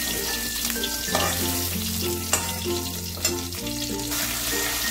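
Amudi fish frying in oil in a pan, a loud, close, continuous sizzle with a few sharper spits and stirring clicks, under a steady hum, with no voices.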